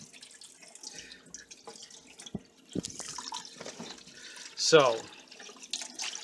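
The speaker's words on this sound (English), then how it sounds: "just going to rinse this out here" Water runs from a tap over a vacuum cleaner part being rinsed, a soft splashing trickle with a brief louder gush near the end, while someone talks quietly over it.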